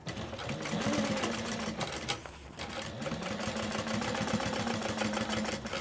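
A sewing machine runs a quarter-inch seam around a lined mini backpack panel, a steady rapid mechanical whir with a brief pause midway before stitching resumes, moderately close and even in loudness.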